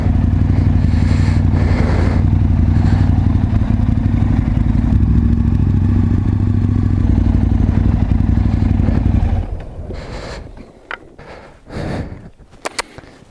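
Motorcycle riding around Rutland, its engine a loud, close, steady drone for about nine seconds before dropping away, leaving scattered clatter and scrapes.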